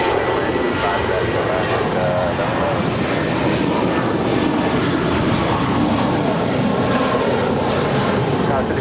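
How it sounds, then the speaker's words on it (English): An American Airlines A320 jet departing LAX roars as a steady, broad, loud rumble throughout, with tower radio chatter and talk running beneath it. "That is American 2780 departing to Austin. It's an A320."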